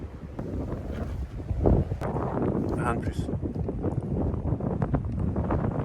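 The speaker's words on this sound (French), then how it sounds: "Petite pause face au vent." Strong gusting wind buffets the microphone on a mountain hike, a rough continuous roar with short speech over it.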